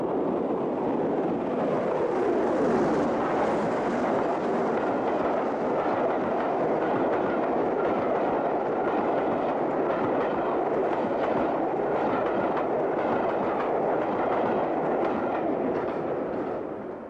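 An LNER steam locomotive hauls a train south through snow on a late afternoon, heard as a loud, steady broadband roar of exhaust and rolling stock that holds without a break.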